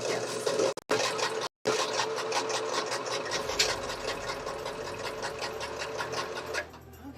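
Sewing machine stitching fabric in a sewing lesson, a steady rapid mechanical chatter of the needle running continuously and close, briefly stopping twice early on before resuming and winding down at the end.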